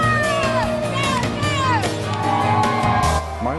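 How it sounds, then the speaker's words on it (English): Spectators chat and shout from the bleachers of a school gym, a dense, lively crowd murmur with whoops and raised voices throughout, near and steady; individual claps from a cheerleader are not clearly picked out. "In a gym, spectators fill bleachers and a cheerleader claps."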